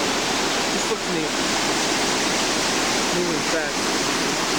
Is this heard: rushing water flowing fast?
yes